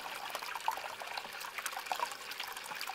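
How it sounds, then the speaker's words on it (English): Water flows steadily over the mat of a deep-well clean-up sluice combined with a miller table. It gives an even, continuous trickle and wash at a moderate, close level, with no talking. "With controlled water flow, nice even flow, control the angle and everything."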